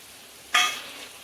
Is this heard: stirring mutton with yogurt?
yes